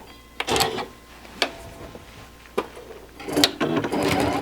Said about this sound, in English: This gives me more control while I'm sewing.